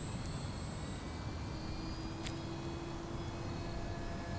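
An FMS 1220mm Ranger RC model airplane with floats flies overhead, its electric motor giving a steady, faint high-pitched whine over constant outdoor wind noise.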